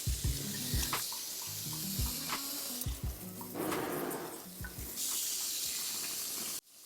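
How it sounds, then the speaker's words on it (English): Warm water poured over dry seed-starting soil for perennial flower seeds, a close, trickling and splashing stream with irregular pulses and bursts, ending abruptly. "I like to use warm water, and water this down really well"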